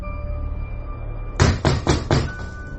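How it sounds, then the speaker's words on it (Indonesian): Four loud, heavy knocks on a door in quick succession, close by, following a faint steady hum. "aku mendengar pintu kamarku diketuk dengan kuat."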